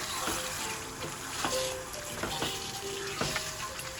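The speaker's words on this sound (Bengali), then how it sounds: "এবার আমি মাংসটাকে 5 মিনিটের জন্য লো ফ্লেমে কষতে দেবো।" Chicken meat sautéing on a low flame for kasuri methi malai chicken, a gentle steady sizzle with soft bubbling pops and occasional faint clinks, close and moderately quiet.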